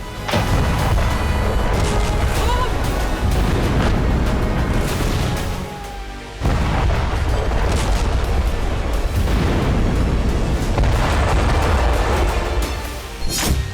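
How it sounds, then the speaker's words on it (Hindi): A rapid series of heavy explosions at an Israeli army base in western Galilee, struck by Hezbollah. Loud booms and rumbling blasts pile up almost continuously, with a brief lull before the barrage resumes. "हिजबुल्लाह ने पश्चिमी गैलिली में इजरायली सेना के बेस पर एक के बाद एक कई धमाके किए।"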